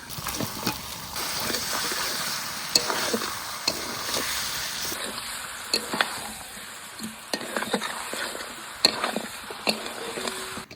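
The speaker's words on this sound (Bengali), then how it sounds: "আলু দিয়ে 4-5 মিনিট আবার মাংসটা কষিয়ে নিলাম" Mutton and potatoes sautéed in oil in a pan for a village-style mutton curry, with a steady close sizzle and repeated scraping stirs and spatula taps throughout, no talking.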